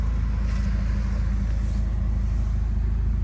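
A Subaru WRX fitted with a catless J-pipe exhaust idles and rolls with a deep, steady, diesel-like rumble, moderately loud and continuous, with no talking.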